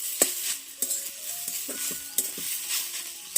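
Onions fry in a pan as a light sizzle, with scattered scrapes and clinks from a utensil stirring them and some faint tonal background sounds.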